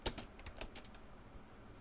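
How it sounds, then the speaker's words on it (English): Rapid keystrokes on a computer keyboard, a quick burst of clicks near the start thinning into scattered, irregular taps, close and fairly quiet with no talking. "I wish I could see what I'm typing."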